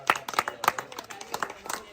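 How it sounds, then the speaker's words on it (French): A small group clapping at a 50th birthday party, a brief patter of hand claps, fairly close, with faint voices around. "On applaudit pour Dido."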